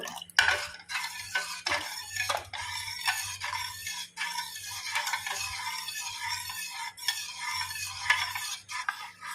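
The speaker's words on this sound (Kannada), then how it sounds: "ಕೈ ಬಿಡದೆ ಇದನ್ನು ಈ ರೀತಿ ತಿರುಗಿಸಬೇಕು" A spoon stirs a thickening ragi mixture in a cooking pot without pause, giving a steady run of scraping, swishing strokes with soft clinks and a faint low hum underneath, fairly quiet throughout.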